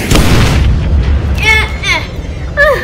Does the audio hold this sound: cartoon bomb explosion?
yes